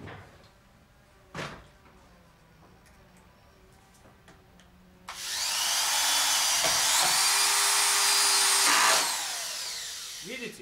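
A cordless screwdriver drives a 51 mm screw into wood: after a few faint clicks and handling knocks, the motor whirs loudly and steadily for about four seconds, then stops, close by and with no talk.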